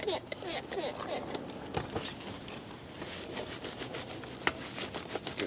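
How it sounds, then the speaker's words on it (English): A wheel well brush scrubs the inside of a car wheel well lathered with iron-removing cleaner diluted 4:1, giving close, continuous bristly rubbing and scraping strokes with occasional sharper knocks. "I'm going to use it with my wheel well brush"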